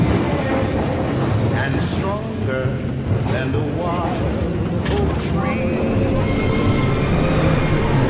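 Steady rolling rumble and clatter of a Brush electric tram on the Hill of Howth line moving on rails, with speech running over the top.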